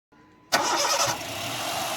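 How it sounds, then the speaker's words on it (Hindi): A used car's engine cranks briefly, then catches and starts smoothly, settling at once into a steady, loud idle with no other sounds. "इस वक्त आपने देखा कि इंजन बहुत ही स्मूथ अंदाज से जो है स्टार्टअप हुआ है, और इसमें वाइब्रेशन बहुत ही कम थी।"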